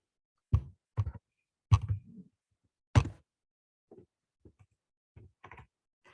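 Sparse keystrokes on a computer keyboard, a few sharp, close taps spaced irregularly across the stretch, then a string of fainter, lighter clicks, with silence in between.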